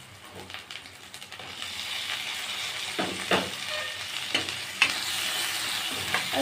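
Onions and green chillies sizzle in a pan with tomatoes going in, a soft steady fry punctuated by a few scraping stir strokes, close and moderately quiet with no talk.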